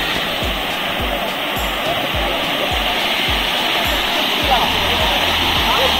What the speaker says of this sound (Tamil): இதுதான் நம்ம பார்க்க போற இந்த ஃபால்ஸ்